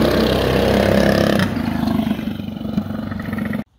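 A motorcycle roars loudly through a small tunnel, its engine noise echoing and booming up close, then easing slightly before cutting off sharply at the end.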